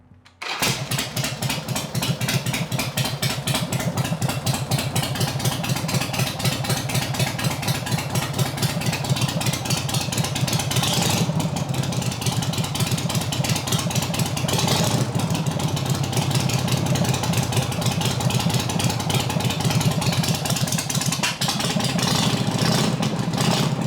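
A Harley-Davidson Sportster 883 motorcycle engine starts after a brief quiet moment and settles into a loud, steady, lumpy idle heard up close, with no talk.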